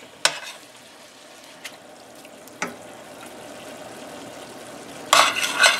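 Canned Rotel tomatoes tipped into a pan of browned taco meat, a steady frying sizzle with a few sharp clinks of the can and spoon, then a louder burst of hissing as the cold tomatoes hit the hot pan.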